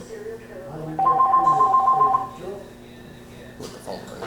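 A telephone rings with an electronic warble, one burst lasting about a second, near and clear, with people talking before and after it during an interview.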